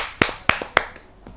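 Three sharp hand claps in quick, even succession at a Hindi poetry gathering, then a few fainter claps trailing off.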